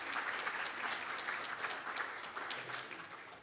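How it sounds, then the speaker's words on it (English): A conference lunch-session audience at a small business event claps steadily, a dense and even round of applause holding at a constant level throughout with no speech. "can we now get a round of applause for Sunshine Coast Council"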